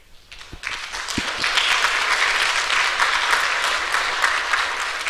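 An academic summit audience breaks into sustained applause for a speaker, starting with a few scattered claps that swell into a dense, even wash of clapping which carries on to the end.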